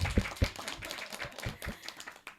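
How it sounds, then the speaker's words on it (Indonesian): A small audience at an intimate book talk claps briefly, a short scatter of quiet, uneven hand claps heard from a little distance. "Boleh tepuk tangan atas jawabannya."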